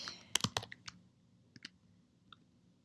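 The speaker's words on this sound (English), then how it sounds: "I'm going to type in Reykjavik" A few quick, sparse keystrokes tapped on a computer keyboard while entering a city name. The clicks are close, light and irregular, with no other sound.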